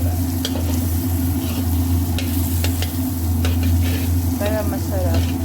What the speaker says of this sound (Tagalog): Ilalagay na po natin ang butter natin.